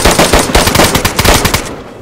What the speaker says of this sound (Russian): я подумал, кто стреляет?